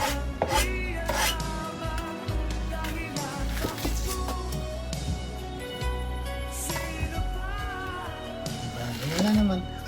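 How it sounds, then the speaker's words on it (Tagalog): Onions being chopped with a knife on a board for pork sinigang, a run of quick, fairly close knocks of the blade partly buried under louder background music. "Next, sunod ko namang hiwain sa sibuyas."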